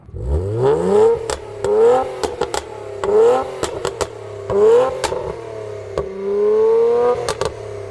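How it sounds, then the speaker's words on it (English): A tuned Nissan Z engine with a modified exhaust revs repeatedly, rising and falling in loud, raspy pulls with crackles between, close by. "it's not the stock exhaust because it doesn't sound stock like that. It's actually modified."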